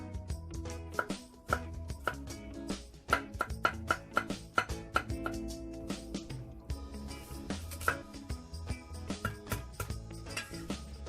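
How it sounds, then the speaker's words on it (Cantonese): A knife chops potatoes into small dice rapidly on a cutting board, a quick series of sharp close taps with brief pauses between runs. "個薯仔咧，我哋要切細粒"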